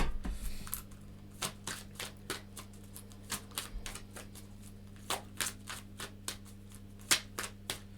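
Playing cards are shuffled quietly, giving a string of quick papery snaps and flutters at an irregular rhythm, close and soft.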